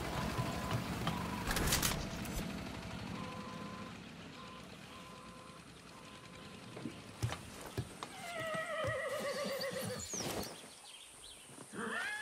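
A horse in Far Cry 6 gives a clear, fairly close neigh late in the clip, following hoof clops and scattered in-game ambient noises and clanks.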